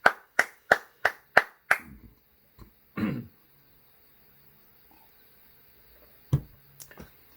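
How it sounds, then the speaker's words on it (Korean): A congregation at an early-morning church service claps in a quick, even burst of about six sharp claps. A brief cough-like sound and a few faint clicks follow, with long quiet gaps between them. "주님께 영광의 박수."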